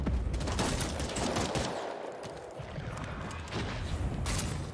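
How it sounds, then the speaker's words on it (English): Rapid gunfire in the video game Bloodhunt, dense bursts of shots crackling continuously and loudly throughout, with overlapping volleys like a firefight between several players. "I'm getting shot by the other one."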